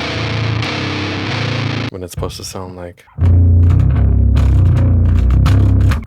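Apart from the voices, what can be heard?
bass recorded through guitar distortion effect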